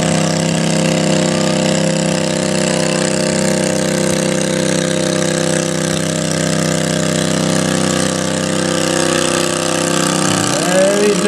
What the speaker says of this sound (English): Kohler engine.